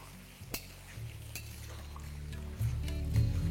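Fried banana stem is stirred in a pan for a vegetarian labra dish, with soft scraping and a few utensil clinks over a low frying hiss that swells near the end, close up and without talk.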